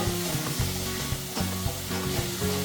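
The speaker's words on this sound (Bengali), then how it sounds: "সেই তেলেই কিন্তু আমি আদা পেঁয়াজ রসুন এবং পরিপূর্ণ মশলাটাকে কষিয়ে নেবো" Ginger, onion, garlic and a full spice mix sizzle steadily in hot oil left over from browning chicken, a close, continuous frying hiss with soft stirring scrapes recurring in a loose rhythm.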